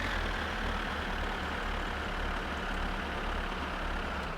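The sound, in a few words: tractor engine driving in video game My Summer Car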